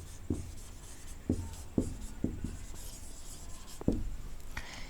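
Someone writes a sentence on a board, giving a handful of separate taps and short scratchy strokes spaced irregularly, fairly quiet and close, with no talk.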